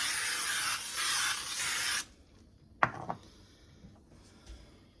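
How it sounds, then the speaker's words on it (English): A steady aerosol spray hisses for about two seconds, close and fairly loud, then stops, followed by a light clink and quiet handling noises. "We're going to spray it with our baking spray."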